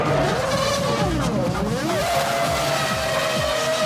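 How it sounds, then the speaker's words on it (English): Formula 1 race cars howl past on a track, high-pitched engines rising and falling in pitch as they pass, layered, loud and continuous at close range. "With engines running and cars screaming by on the track, it's impossible to hear"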